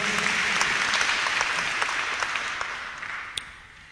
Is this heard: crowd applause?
yes